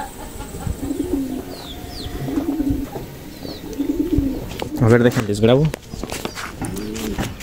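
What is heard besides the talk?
fantail pigeons cooing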